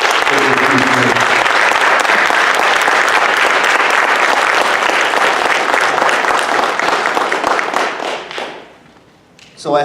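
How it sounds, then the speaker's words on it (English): A community audience at a ceremony honoring police officers after a school was vandalized with graffiti breaks into loud, full applause that runs for about eight seconds. It then tapers off quickly, and a speaker's voice follows. "So if we could give them a round of applause."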